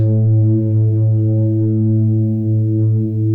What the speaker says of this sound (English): the reverb almost constantly rings out